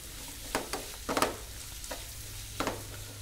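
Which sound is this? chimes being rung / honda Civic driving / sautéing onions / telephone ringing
sautéing onions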